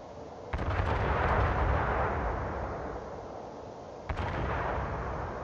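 Heavy naval guns from a warship in a video game boom twice, a sharp blast followed by a long rumbling roar, then a second blast near the end, with no talk.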